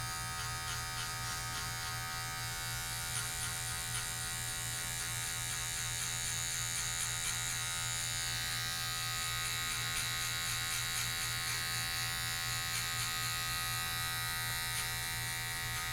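An electric hair clipper with a number 1 guard and the lever open buzzes steadily and close during a high fade haircut, a constant motor hum with a fixed pitch and little variation, with no talking.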